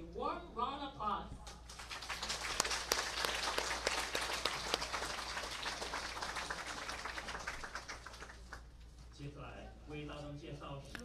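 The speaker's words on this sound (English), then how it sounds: "Living Buddha Linsen, with a warm round of applause." An audience at a Buddhist Dharma talk and ceremony gives a warm round of applause for a revered master. Dense, sustained clapping sits between a speaker's announcement before it and talk resuming after it.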